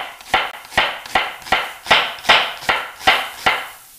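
A knife chops red onion on a cutting board in nine sharp, evenly spaced strikes, each a crisp thunk on the board, with no talking.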